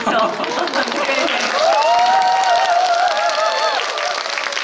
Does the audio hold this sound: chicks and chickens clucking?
no